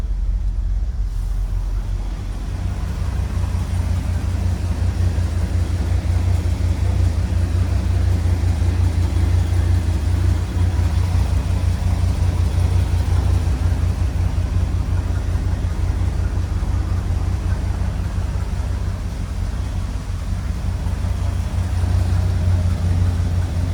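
A 1978 Ford F250 XLT Ranger 4x4 pickup with a 460 V8 and automatic transmission runs with a steady, deep low rumble that stays loud and even throughout, heard alone without speech.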